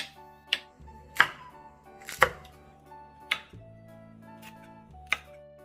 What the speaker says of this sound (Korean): 양파는 큼직하게 썰어주세요